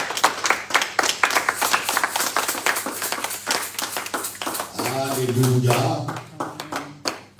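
A church congregation claps and applauds in a dense stretch of sharp hand claps, with voices rising in a sung or shouted acclamation partway through.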